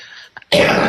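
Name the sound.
coughing and throat clearing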